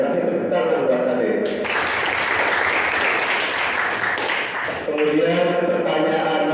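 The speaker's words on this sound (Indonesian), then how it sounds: "Kasih tepuk tangan buat tadi" A seminar audience breaks into a burst of clapping that swells loudly for about three seconds, then fades as speech resumes; a voice talks before and after the applause.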